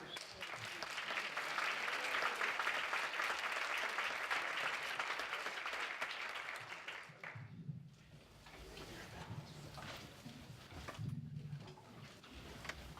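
A conference audience at a morning forum applauds steadily for several seconds as a speaker named Xavier is welcomed to the stage, then the clapping fades into scattered claps and room noise.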